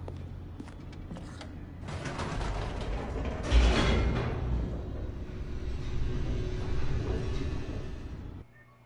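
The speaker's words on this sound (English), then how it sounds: "The elevator raced downward, plummeting towards an unknown fate." An elevator in The Stanley Parable descends with a steady mechanical rumble and rattling creaks, a sharper clunk partway through, then cuts off abruptly near the end.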